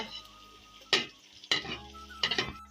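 Tomatoes fry in a pan with browned ginger and garlic, sizzling, with three sharp bursts of hissing as ingredients are stirred or tossed in, under a steady low background.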